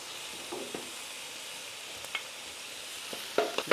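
Two garlic cloves fry for fried rice with a faint, quiet sizzle, broken by soft scrapes and taps of stirring that come closer together toward the end. No one speaks.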